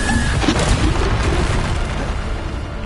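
Spell impact from Descendo cast in Hogwarts Legacy, a dense booming burst that rumbles loud and close throughout, with no talking over it.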